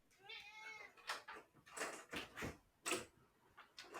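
A cat meows several times up close in a quiet room, with a short wavering call followed by a few sharper, separate mews spaced about half a second apart.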